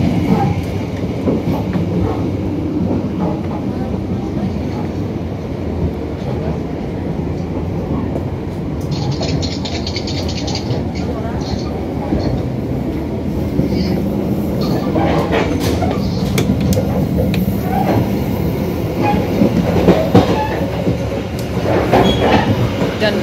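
The KA Jaka Tingkir passenger train runs on the rails between Pasar Senen and Lempuyangan, heard as a steady loud rumble with rhythmic wheel clatter and occasional squeals.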